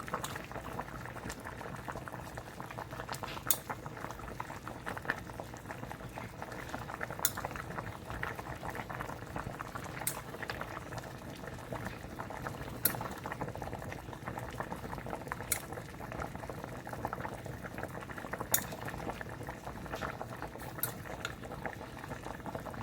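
Chicken meatball soup boils steadily in a pot, giving a continuous low bubbling wash with faint scattered clinks, alone and fairly quiet throughout.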